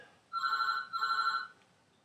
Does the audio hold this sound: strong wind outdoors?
no